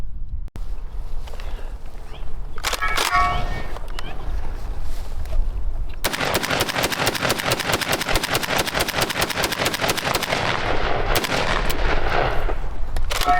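Ohio Ordnance BAR rifle fires a long rapid burst of automatic gunfire, loud and close, preceded by a few scattered single shots and followed by brief quiet.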